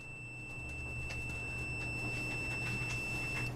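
Multimeter continuity beep while probing a 3.5 mm audio jack, a steady high electronic tone held throughout under faint low hum, with no one talking.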